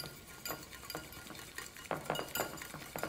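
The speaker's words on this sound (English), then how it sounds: "All you do is take this whisk" A whisk stirs melted animal-free cheese for gnocchi in a bowl, giving a run of quick metallic clinks and scrapes in uneven bursts, close and moderately loud with no talking.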